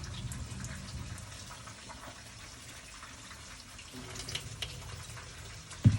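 White rice being washed under a running kitchen tap, a faint, steady stream of water with soft swishing and splashing that swells slightly near the end.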